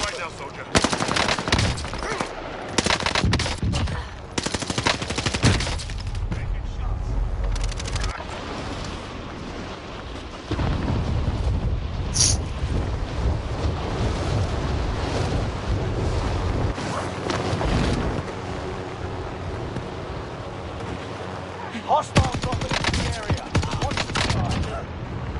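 Sustained video-game gunfire, dense volleys and bursts running almost continuously through a noisy battle soundscape, with scattered loud cracks and a voice occasionally heard.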